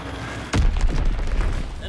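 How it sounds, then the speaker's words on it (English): Bomb blast in Call of Duty WW2, a sudden loud boom that cuts in after a quieter stretch and rolls on as a rumbling tail with game sounds around it. "Enemy bomb incoming."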